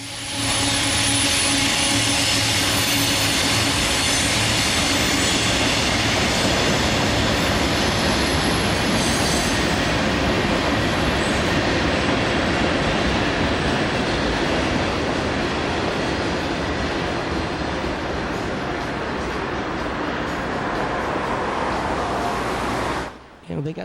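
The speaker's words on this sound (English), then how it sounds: "Oh, train." A train passes close by, a loud, continuous rumble with high wheel squeal that holds steady for over twenty seconds before cutting off abruptly at the end.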